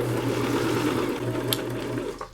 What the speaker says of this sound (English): I'm going to just sew to the end here and finish off.